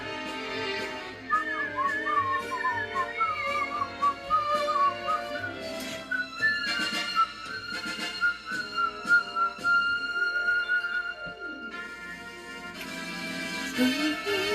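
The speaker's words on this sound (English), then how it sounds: "It's a little too high for me to whistle is the problem." A person whistles a melody alone and close, a sustained tune with sliding notes that briefly breaks off and then resumes.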